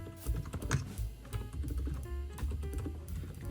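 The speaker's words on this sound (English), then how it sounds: "This is an actually quiet keyboard." A quiet mechanical keyboard with tactile switches being typed on nearby, producing a steady run of soft, muted keystrokes with no talking.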